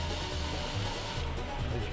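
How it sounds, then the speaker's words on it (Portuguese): A hair dryer used as a heat tool runs steadily at close range to dry yellow paint on an artificial fishing lure, giving a continuous whooshing airflow with a low motor hum and no break over two seconds. "Você passa o secador térmico, um secador de cabelos, você espera secar"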